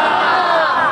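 A large crowd at a religious gathering chants the Labbaik slogan in unison, a loud, sustained mass of voices that fills the clip.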